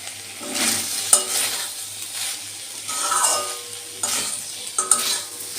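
Potato, pumpkin and eggplant pieces sauté in a pan, a soft sizzle beneath repeated bursts of stirring and scraping, with occasional clinks of utensil on metal, close and fairly quiet.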